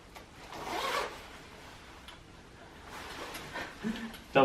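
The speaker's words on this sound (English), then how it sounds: "I'll show you what it looks like zipped up" A double-zip jacket is zipped up, with a rasping zipper pull near the start and further scratchy zipping and rustling later, close and moderately loud.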